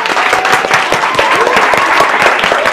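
Loud, close applause from an audience for a social media career panel: continuous dense clapping with distinct individual claps, steady throughout with no break.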